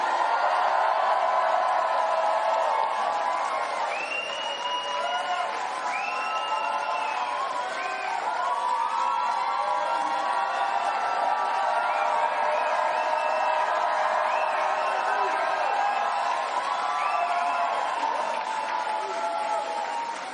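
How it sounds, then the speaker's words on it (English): Crowd at a pre-debate political rally cheering and whooping steadily throughout, a dense, loud roar of many voices with high shouts rising above it. "I'm just going to keep calling out names and you guys just cheer"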